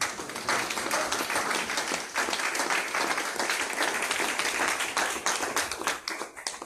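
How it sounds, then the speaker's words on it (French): A church congregation breaks into sustained, dense applause, close and loud, with steady clapping filling the whole stretch and a few cheers mixed in. "Est-ce qu'on peut acclamer pour la gloire de Dieu?"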